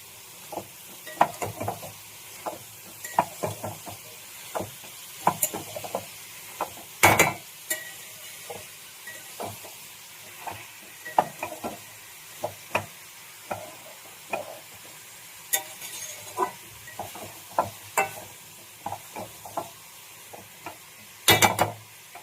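Bottle gourd stems frying in a pan for a lentil dish, a soft background sizzle broken by regular sharp scrapes and knocks of a spoon stirring them, close and with no voices.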